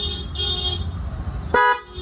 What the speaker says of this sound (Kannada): ಈ ದೊಡ್ಡ ಹಾರನ್ ಬರುತ್ತೆ